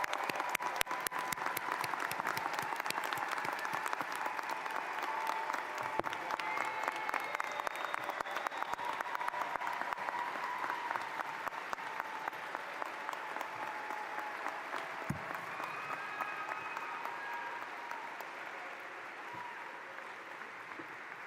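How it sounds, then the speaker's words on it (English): An audience at a 2021 medical school commencement applauds the graduating class, a sustained dense crowd clapping that carries on steadily for about twenty seconds and slowly thins toward the end. "Let's give another round of applause to all of the graduates of the class of"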